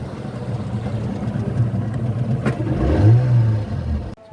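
Motor boat engine on a ride at Malampuzha Dam, a close, steady engine rumble that swells into a brief rev near the end before cutting off, with no talk.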